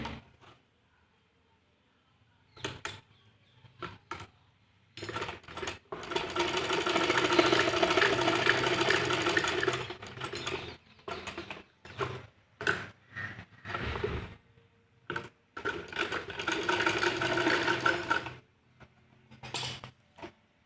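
Electric sewing machine stitches the shoulder seams of a kurta in several bursts of whirring, with short pauses and clicks of handling between runs.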